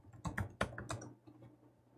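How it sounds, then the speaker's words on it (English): Quick clicks from a computer keyboard as a password is typed, about half a dozen close, crisp keystrokes in an uneven burst, with the last few fainter, in a quiet room. "Type in your password."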